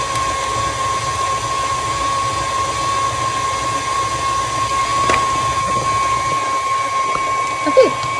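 A stand mixer kneading yeast bread dough runs at a higher speed with a steady mechanical whir and a high constant tone, continuous and fairly loud throughout.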